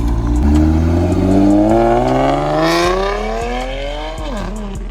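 A turbocharged car engine revs up steadily, its pitch climbing over several seconds before dipping briefly and rising again, loud and close.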